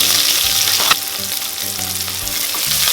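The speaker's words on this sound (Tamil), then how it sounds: "வெங்காயத்தை நல்லா வதக்கிக்கோங்க" Two large sliced onions frying in oil with whole spices such as bay leaf and star anise for mushroom biryani, a loud close sizzle with spoon scrapes and a sharp tap.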